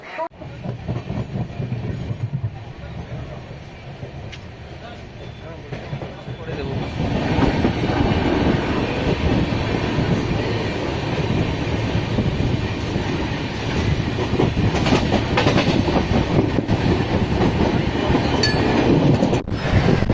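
Poorva Express passenger train pulling out of Bardhaman station: a low rumble and rattling wheel noise that grows louder after the first few seconds and then rolls on steadily, heard from inside the carriage.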